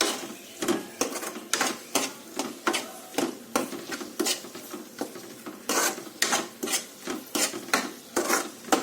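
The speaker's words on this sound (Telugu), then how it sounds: "సో కారం వేసేసుకొని మళ్ళీ ఒకసారి తిప్పుకోవాలి." A spoon stirs drumstick and tomato curry in a pan after chili powder is added, giving a regular series of scraping, clinking strokes close up, with no talk.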